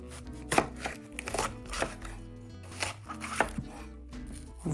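Repeated knife strokes chopping sweet pepper on a cutting board, crisp uneven taps at a steady working pace, close by, with no talking.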